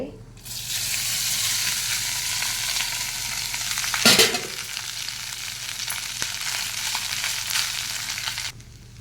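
Cooked rice goes into a hot frying pan with ajwain and is stirred. A steady sizzle runs under repeated scraping, a sharp clatter lands midway, and the sizzle cuts off at the end.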